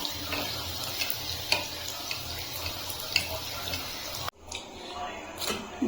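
Chocolate bun dough frying in hot oil over a medium gas flame gives a steady, close sizzling hiss with small crackles, briefly dropping off and returning near the end.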